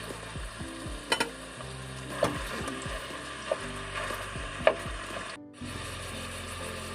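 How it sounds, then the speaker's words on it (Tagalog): Ground pork sautéing with onions in a pan, a steady close sizzle broken by scraping stirs and a few sharp utensil clicks, with no one talking. "Then ilagay na natin yung ating ground pork."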